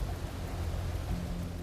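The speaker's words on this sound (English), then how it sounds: "It was a terrible night for the stormy weather, strong wind, heavy rain" Heavy typhoon rain pours in a steady, dense hiss with a low rumble beneath, fairly quiet and continuous for a brief stretch, with no one speaking.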